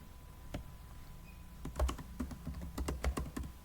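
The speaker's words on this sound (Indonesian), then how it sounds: "Nah, pada bagian name, kita ketikkan" Computer keyboard typing while entering a variable name in statistics software: a run of quick, irregular key clicks, sparse at first and then denser. Close but fairly quiet, with no voices.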